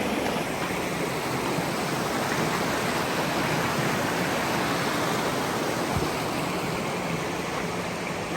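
Bright Angel Creek in the Grand Canyon rushes past in a steady, loud, close wash of flowing water along a hiking trail, with no talk.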